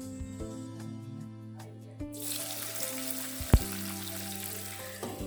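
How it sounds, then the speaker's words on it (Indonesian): Boiled squid frying in hot oil at home, a steady broadband sizzle that starts abruptly partway through and continues loud and close, with a brief clatter midway and faint kitchen hum underneath. "cuminya udah aku tiriskan tadi setelah direbus, lanjut aku goreng"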